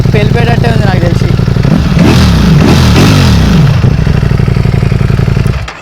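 A Ducati Panigale V4S idles with a deep, throbbing exhaust, then is revved hard several times in quick succession, each surge rising and dropping loudly and close by before the engine settles back to idle and cuts off.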